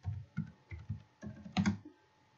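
Quiet, close keystrokes tap out a command on a computer keyboard in uneven bursts of several clicks, with a slightly heavier clack near the end.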